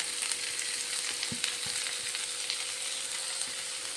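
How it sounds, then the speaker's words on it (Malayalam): Two large chopped onions fry with ginger and green chilli in hot oil, giving a steady, dense sizzle with a few soft stirring knocks. "രണ്ട് വലിയ സവോള ചോപ്പ് ചെയ്തതാണ് അതും കൂടി ഒന്ന് ചേർത്ത് കൊടുക്കാം"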